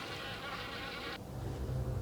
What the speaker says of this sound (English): there's a lot of wasps